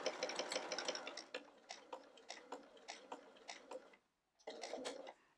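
A Bernina sewing machine fitted with a walking foot stitches binding onto a quilt, a close, steady run of rapid needle clatter that pauses briefly near the end, then starts up again.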